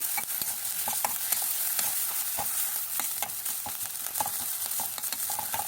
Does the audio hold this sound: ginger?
yes